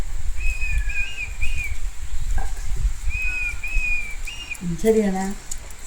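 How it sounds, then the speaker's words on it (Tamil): Repeated clear whistled bird calls, a few short phrases over a low background rumble, with a lower warbling call near the end, in rainy, foggy hill country at Valparai, India. "ஆனால் வந்துட்டு அது ஒரு பறவை"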